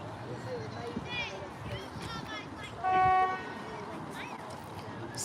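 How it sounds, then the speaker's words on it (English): A boat horn gives one short, loud toot about midway through, steady and tonal, rising over background chatter and ambient outdoor noise. "whoever it is should stop tooting"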